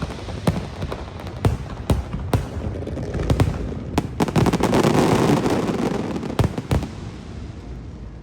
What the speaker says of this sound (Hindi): भाई एकदम से कोई फायरवर्क्स हो गए